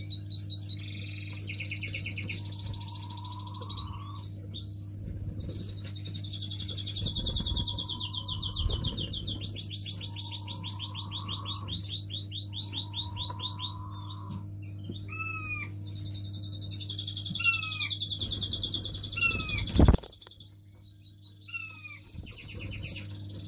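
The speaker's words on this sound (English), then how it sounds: "We've just got this big flight open now for the 25 first round birds." Fledgling birds chirping and calling in an aviary flight, many high repeated tweets and trills overlapping steadily above a constant low mechanical hum, with a brief knock near the end.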